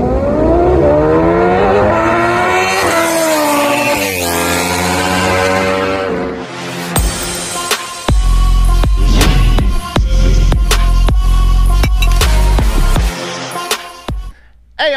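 A 2004 Suzuki GSX-R 1000 with an Alien Head exhaust revs loudly on a dyno, its pitch climbing through gears in a long pull, then cutting to sharp, choppy throttle blips and a deep rumbling idle.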